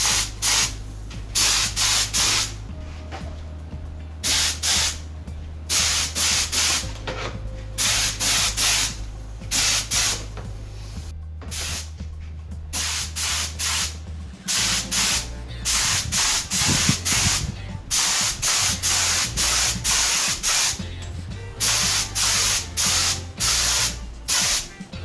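Compressor spray gun painting a small side table, with repeated short hissing bursts separated by brief pauses, the compressor humming low underneath throughout.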